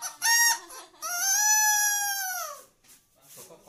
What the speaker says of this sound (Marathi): कोंबडा रटतो ना काय रे